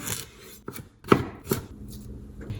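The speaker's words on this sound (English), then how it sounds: "The first step is to chop your vegetables." Vegetables being chopped on a cutting board for a make-ahead salad, several sharp knife strikes at an uneven pace, close and clear with no talking.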